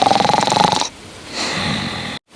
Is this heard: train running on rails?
no